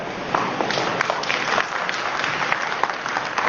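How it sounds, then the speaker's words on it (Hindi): An audience at an IMC network marketing business seminar applauds, a loud, dense wash of many hands clapping at once, sustained throughout with scattered sharper claps standing out. "उसी हिसाब से अपने लिए ताली बजाइए आप लोग"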